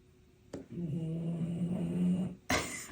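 A sleeping dog snores in one long, steady, rumbling breath, fairly close and moderately loud, bracketed by brief knocks at the start and end.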